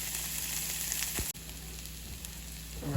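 Onions and garlic simmering in a pan for coconut shrimp soup, a steady close sizzle and bubbling hiss that holds evenly throughout with a brief soft bump partway.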